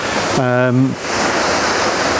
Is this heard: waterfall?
yes